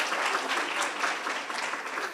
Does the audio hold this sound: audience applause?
yes